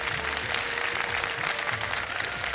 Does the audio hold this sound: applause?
yes